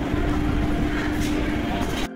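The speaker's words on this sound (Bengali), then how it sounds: "ট্রেন ঢুকছে" A train pulls into a station platform, its steady low rumble and rolling noise close and continuous, with a faint hum above it, then cutting off abruptly near the end.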